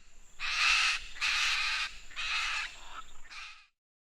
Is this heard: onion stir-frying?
no